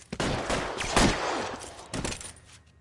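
Bursts of gunfire ring out during a shootout in the video game L.A. Noire, dense overlapping shots in rapid volleys, loud and close, easing off toward the end.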